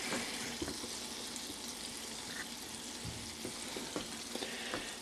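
Sausage grease fries in a pan as pepper goes in, giving a soft, steady sizzle with a few faint clinks and stirring sounds, fairly quiet and without speech.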